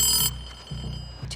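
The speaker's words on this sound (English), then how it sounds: "Just the phone." A telephone in Stranger Things rings with a loud electric bell trill at the start, then brief pulsing buzzy bursts follow close by, with no voices.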